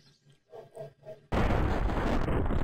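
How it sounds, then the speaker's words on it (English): Explosion in the video game Iconoclasts: a loud, sustained roaring blast bursts in suddenly and fills the rest of the moment after a few quieter tonal game sounds. "Oh, we got an explosion."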